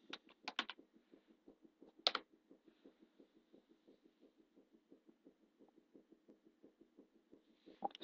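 Typing on a computer keyboard in a web IDE terminal, a steady run of light, close key clicks with a few louder, sharper strokes at the start and end, no voices.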